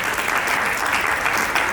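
Loud, dense applause from a crowd at a stage event, a continuous close roar of clapping with no voices over it.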